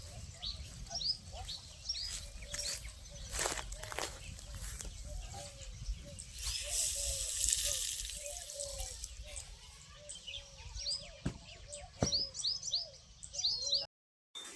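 Sparrows chirp in quick repeated bursts as grain is scattered for them outdoors, a steady flutter of small calls over a low background, with people talking at times.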